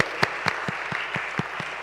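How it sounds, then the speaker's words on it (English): A small church congregation claps for its stewardship committee, a sparse round of distinct hand claps spaced at an uneven, moderate pace, close and clear with no talking. "Let's give you a round of applause."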